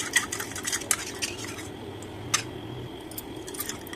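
A spoon scrapes and clinks against a bowl while betel leaf henna paste is mixed, with a few sharp metallic taps over a soft, steady scraping close at hand and no voices.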